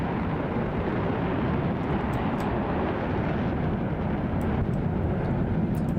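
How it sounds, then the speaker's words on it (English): Steady, dense roar of jet afterburner thrust from a plane at a Roblox air show game, loud and continuous without a break, with no voices over it. "That's a lot of thrust coming out the back of that plane."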